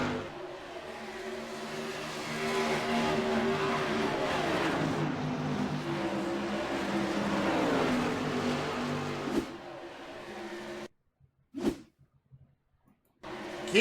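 Tour Mods race cars at Iowa speedway: a loud, continuous roar of several engines with rising and falling revs as cars pass, fading to near silence with a few faint bursts at the end.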